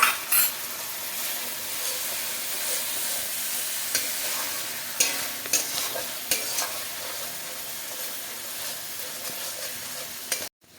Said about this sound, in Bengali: ভালো করে আমরা নাড়িয়ে দেবো মশলাটা